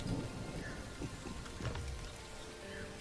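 Rain falling in the video game The Isle, a steady close hiss of drops on surfaces with faint rumbling thunder beneath, continuous and even throughout.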